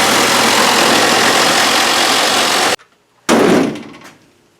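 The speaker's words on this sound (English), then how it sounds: "just using a Sawzall for the initial cut anyways" A Sawzall reciprocating saw cuts a rusted metal toilet flange with a loud, harsh, steady buzz close by. It stops abruptly, leaving a brief near-silence, then gives a short second burst that fades away.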